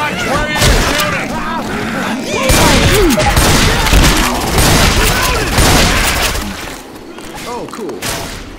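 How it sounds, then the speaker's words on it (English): Gunfire crackles in Left 4 Dead 2 during a Fatal Freight multiplayer campaign, dense repeated shots and booms close by, with players shouting over the fighting. "Watch where you're shooting!"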